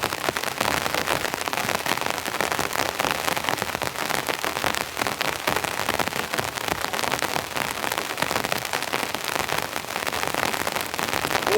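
Heavy rain pours nonstop onto a tent tarp at a calm, windless campsite, a dense, steady drumming of countless drops with scattered sharper pattering, loud and close overhead with no voices.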